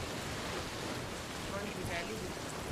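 Steady heavy rain from a storm in the pirate game Sea of Thieves, a dense continuous hiss of downpour with surf-like wash, loud and unbroken throughout.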